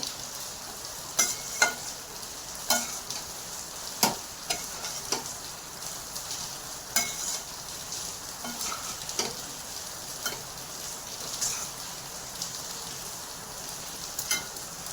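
Fish chop filling with raisins frying in a pan, a steady soft sizzle broken by repeated sharp ticks and scrapes as a spatula stirs it. No voices.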